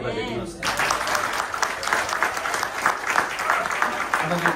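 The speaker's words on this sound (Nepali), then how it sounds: "ताली बजाइदिनुहोस्" Guests at a wedding ceremony led by a pastor break into applause, a crowded, sustained clapping that follows a brief spoken line and carries on for several seconds.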